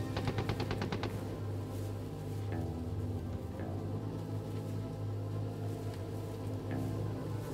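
Rapid machine-gun bursts rattle in the opening second of a BRDM-2 reconnaissance tank game, followed by sparse distant single shots over a steady low engine rumble.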